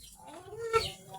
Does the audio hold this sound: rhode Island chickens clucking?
yes